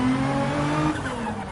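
A race car in Gran Turismo 7 accelerates out of the pit, its engine note loud and close with steady rising tones, over a short sustained roar.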